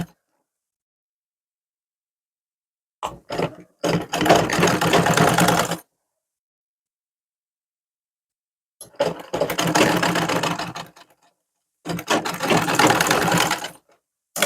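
Sewing machine stitching the finishing seam on a suit, running in three separate bursts of steady rapid whirring, each lasting about two seconds, with silent pauses between them.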